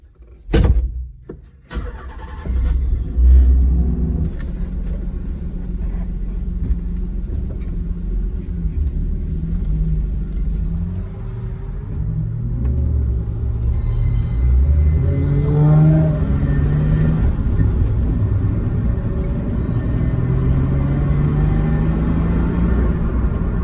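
A Nissan 300ZX Z32 with a manual transmission swap starts up and drives off, its engine rumbling steadily and rising through revs and gear changes for the whole stretch, with no talk.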